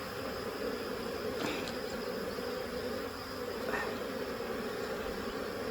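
Steady honey bee buzzing, close and continuous, with no voices; a low droning hum that holds evenly throughout.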